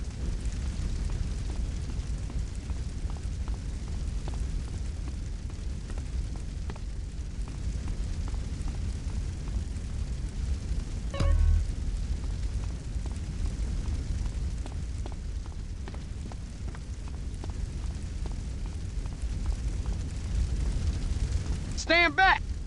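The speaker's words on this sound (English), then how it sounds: "those flames, they're too hot" Flames roar in GTA San Andreas as a house fire burns, a steady loud low rumble with scattered pops and crackles throughout and a brief burst near the middle.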